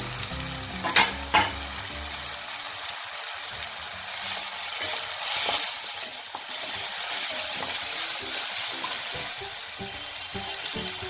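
Half a spoon of whole spices frying in hot oil for a dal tadka, a loud steady close sizzle with a couple of sharp pops near the start and spoon stirring, no voices.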